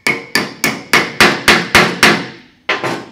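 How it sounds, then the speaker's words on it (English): A hammer pounds a broken bolt extractor into a hole in eight loud, ringing metallic blows at a steady pace, then a short pause and one more strike, close and alone with no talk. "That's the third time I've pounded that extractor into that hole."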